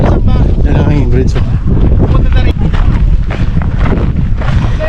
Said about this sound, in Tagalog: Mahangin nga bridge.